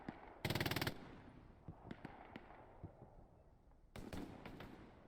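Machine gun fire in the World War II video game Hell Let Loose: a loud rapid burst of rattling shots early on, then scattered distant shots, and a second shorter burst near the end.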